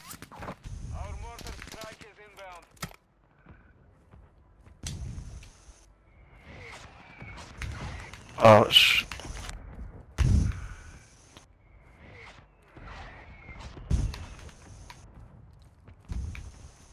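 Scattered gunfire and booming explosions from an airstrike in a video game, sparse bursts and a few heavy blasts spread across the stretch, with a voice talking briefly.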